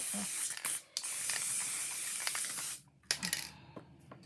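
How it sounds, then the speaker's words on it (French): Aerosol spray can hissing onto a handmade greeting card, two close bursts of spray separated by brief pauses, with small clicks and handling noises between them. "On va mettre avec la bombe."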